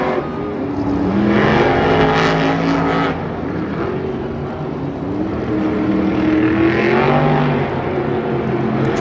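Monster trucks roar through a race at Monster Jam Anaheim, with engines snarling and revving continuously at high volume and the pitch rising and falling as they charge around the stadium track.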